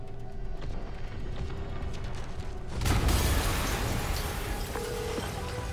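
A muffled explosion in Spider-Man on PS4 booms partway through over a steady background rumble and hum, fairly quiet overall.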